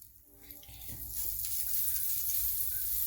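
Food sizzles steadily on a hot tawa griddle, the frying hiss swelling after the first second and staying loud and close with faint stirring underneath.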